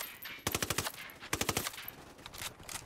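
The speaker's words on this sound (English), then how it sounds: "Who's shooting me from the right?" Automatic gunfire from the video game Ghost Recon Wildlands comes in two loud, rapid bursts close together, followed by scattered quieter shots and a short final burst.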